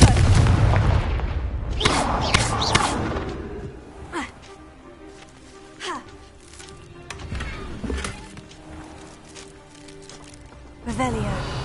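The Confringo fire spell in Hogwarts Legacy goes off in several booming blasts spread across the scene, sharp thuds over low game ambience with a voice speaking.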